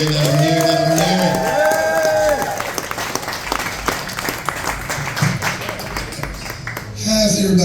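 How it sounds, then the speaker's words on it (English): Sustained audience applause at a birthday comedy show, dense clapping that fills the room, with whoops and a voice over it, tapering slightly before swelling again at the end. "I love a big round of applause right now"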